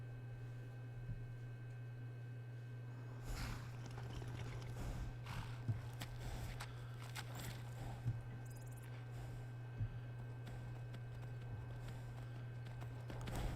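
Horse hooves clip-clop steadily through the Skyrim game world as a rider travels, giving a quiet, regular clopping under a constant low hum and faint background noise.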